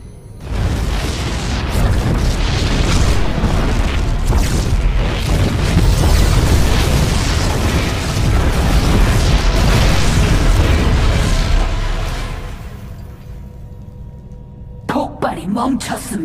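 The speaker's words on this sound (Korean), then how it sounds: "폭발이 멈췄습니다." Booming explosions from the StarCraft II Heart of the Swarm campaign mission Enemy Within roar in a dense, sustained barrage for about twelve seconds, then taper off into quieter clicks and effects at the end.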